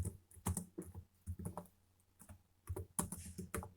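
Quick bursts of typing on a computer keyboard, the clicks coming in irregular clusters with short pauses between them, close and fairly quiet with no one speaking.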